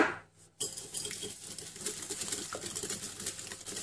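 Eggs and sugar go into a mixing bowl for chocolate-sauce cake batter, making close, crisp clinks and light taps against the bowl in a quick, irregular run, with no talking.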